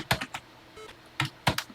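Keystrokes on a computer keyboard sound during TI-99/4A game development work: a short burst of sharp clicks, then a pause, then three more close, crisp taps.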